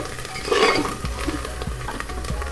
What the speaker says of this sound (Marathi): हे सर्व परतून घ्यायचं. थोडं लो फ्लेमवर भाजून घ्या.